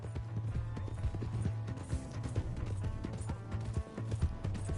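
Steady clip-clop of horse hooves galloping at a quick even rhythm in Red Dead Redemption 2, set against a continuous low background hum and music.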